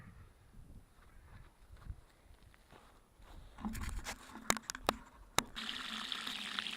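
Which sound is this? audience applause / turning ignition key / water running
water running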